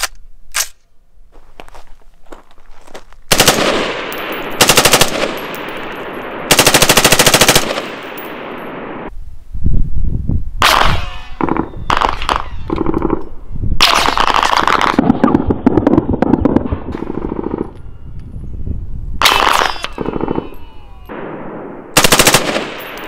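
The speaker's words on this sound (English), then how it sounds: "Okay, shots are coming." Full-auto gunfire at a lake, shot toward targets about a mile away: repeated loud bursts of rapid fire separated by short pauses, sharp and close at the firing point, with no talk.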